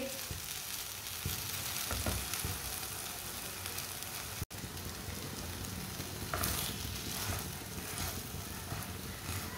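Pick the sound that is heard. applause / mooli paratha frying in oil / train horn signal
mooli paratha frying in oil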